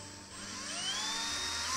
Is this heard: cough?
no